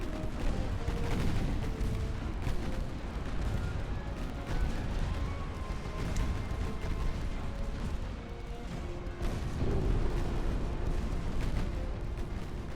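Naval battle between 1890-era warships in Ultimate Admiral: Dreadnoughts, with constant booming gunfire and muffled explosions from torpedo hits rolling over each other in a loud, dense rumble.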